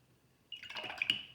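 Water trickles briefly into a small puddle of watercolor paint, a soft, close, quiet splash and drip that starts after a short silence.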